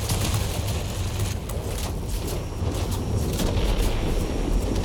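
Gunfire and flak in World of Warplanes, heard from an XFL-1 Airabonita interceptor, crackle as dense rapid bursts over a constant loud engine roar, without any voices.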